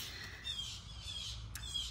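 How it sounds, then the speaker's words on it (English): Birds squawking outdoors in Florida, a few faint, distant calls scattered over quiet background ambience, with no one speaking. "You can hear those birds."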